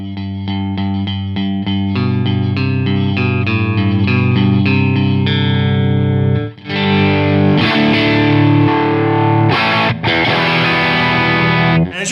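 Heavily distorted electric guitar played through a micro amp boosting the main amp, chugging chords with a fat low end and clear top, then a sustained wash of ringing chords, loud and continuous with no talking.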